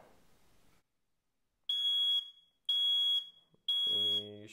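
Three loud, piercing smoke detector alarm beeps sound at regular intervals after a quiet stretch, with a faint voice at the start and near the end.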